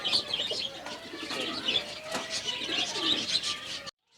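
A fancy American pigeon (single breeder male) coos at a breeding setup, soft repeated coos mixed with chirps and bird calls nearby, then abrupt silence at the end.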